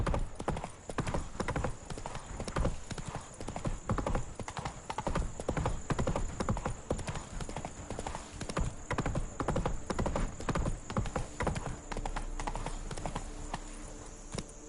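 Roach the horse in The Witcher 3 gallops with loud, rapid, continuous clip-clop of hooves, joined now and then by a short whinny, over steady game ambience.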